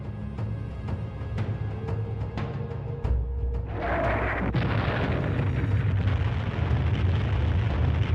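World War I artillery fire from French guns at Verdun, Hill 304, rolls out as heavy, booming blasts, with a series of sharp thuds giving way to a loud, sustained rumbling roar.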